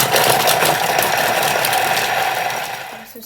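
A Thermomix food processor runs at speed 5, blending tomato roll ingredients in its closed bowl. It gives a steady whirring, rattling mechanical drone for about three seconds, then winds down at the end.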